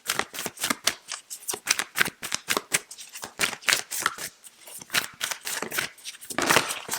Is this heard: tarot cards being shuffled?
yes